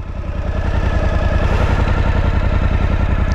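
A Suzuki V-Strom 1050 motorcycle with a Mivv Speed Edge exhaust idles steadily close to the microphone, a loud, even, throbbing engine pulse with mechanical clatter and no talking.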